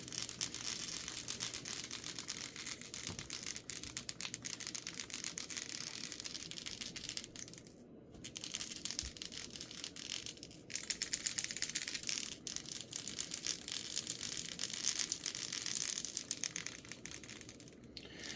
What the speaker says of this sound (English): Now you have to be careful with these stainless steel balls, putting them in these glass bottles.